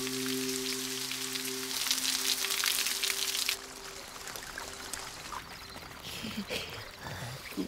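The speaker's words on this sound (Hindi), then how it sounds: "बारिश की वजह से ठीक से बात भी नहीं हो पा रही" Steady rain falls in a broad, continuous hiss, heavy and close for the first few seconds, then softer and patchier, with a low electronic hum underneath early on and scattered faint knocks.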